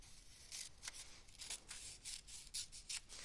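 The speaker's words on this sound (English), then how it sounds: "So I'm going to use my scissors and cut it in half." Scissors cut a paper tree trunk in half with a series of crisp, close snips, about eight quick cuts in an uneven rhythm over soft rustling.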